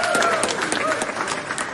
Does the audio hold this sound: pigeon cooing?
no